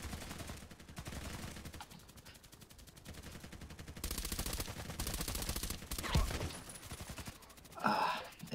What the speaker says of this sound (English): AK-105 did me in.